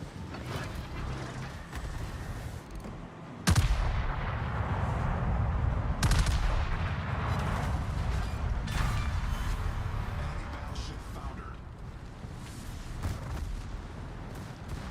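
Naval guns boom as a ship fires high explosive shells in the World of Warships video game. Heavy blasts sound over a constant loud rumble of battle, with sharp reports near 3.5 and 6 seconds.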